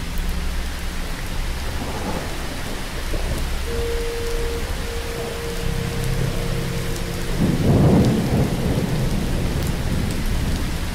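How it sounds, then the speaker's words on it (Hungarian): Rain starts falling at Lake Tisza with a steady broad hiss, while low rumbles of thunder roll through and swell near the end; no voices. "Február óta először ered el az eső, és látszik, hogy nem fog hamar elállni."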